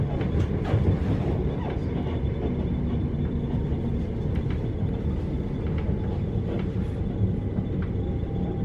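A suburban train of eight coaches sits at or moves along platform 15 at Clapham Junction on a chilly day, giving a steady low rumble with faint rail clicks throughout, heard close and without talk.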